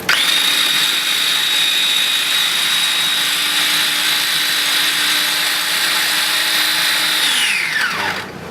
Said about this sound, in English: Just put a little bit of that back in there, just to help processor mix the spices around a little bit.